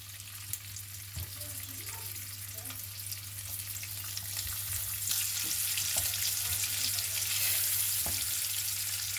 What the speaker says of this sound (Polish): Poczekamy aż nam się olej podgrzeje i wtedy wrzucimy boczek